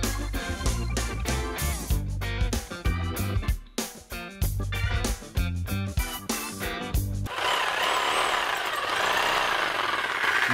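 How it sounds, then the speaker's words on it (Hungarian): A power drill bores a hole with an 8 mm bit, a choppy stuttering whine in rapid bursts up close, then the motor stops and a quieter hiss follows. "most még egy második körben egy 8-assal utána fúrtam"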